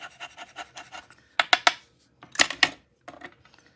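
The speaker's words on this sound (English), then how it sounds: "So why don't you scrape it" Paint being scraped off a stamped card made with a chalk technique, heard as a run of short dry rasping strokes followed by several louder bursts of scraping with brief pauses between them, close up.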